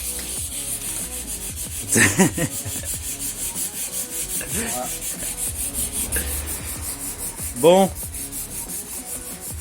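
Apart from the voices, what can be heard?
sanding motorcycle fairing with 120-grit sandpaper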